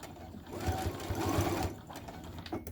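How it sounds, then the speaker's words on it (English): A sewing machine back stitches fabric for a zipper pouch, its needle running in a quick, steady mechanical rattle for about a second, quiet and close, with a faint voice in the background. "I'm just back stitching."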